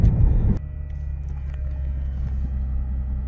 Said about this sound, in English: I do hear a light humming coming from the front somewhere.